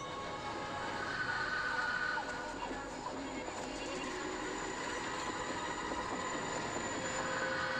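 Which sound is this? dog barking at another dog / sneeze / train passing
train passing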